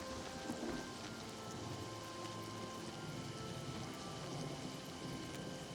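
Rain in the video game Oblivion falls as a steady, soft, even hiss with faint low rumbling beneath it, quiet and unbroken throughout with no talking.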